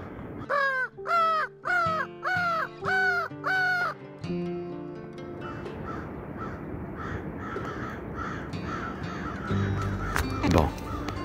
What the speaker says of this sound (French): j'ai le pouvoir d'appeler les corneilles.